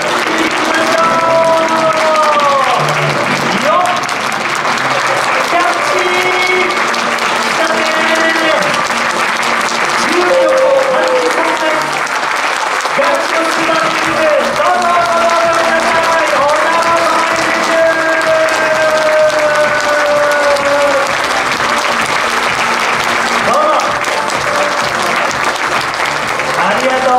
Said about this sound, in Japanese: はい、拍手いきましょう。